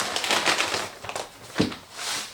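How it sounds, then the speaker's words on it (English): Aquarium sand poured onto the glass bottom of a tank as a base layer under big rocks makes close, gritty rushing and crunching sounds in a few uneven bursts. "I'm going to put this sand on the bottom so that those big rocks ain't just sitting right on the glass"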